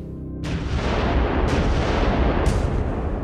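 Heavy naval gunfire from British 15-inch guns, a dense roaring rumble with sharp blasts near the start and repeated booming bursts layered over a continuous low thunder.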